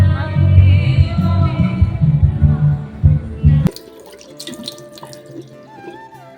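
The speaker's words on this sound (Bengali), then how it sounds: "হাত পা ধুলাম, মুখটাও ধুয়ে নিলাম, ফ্রেশ হলাম" Tap water runs steadily while someone washes their hands, feet and face, a dense splashing rush for about three and a half seconds that then cuts off, leaving quieter, scattered small sounds.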